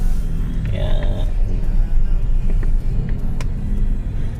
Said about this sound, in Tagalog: So dito talaga ay laging traffic.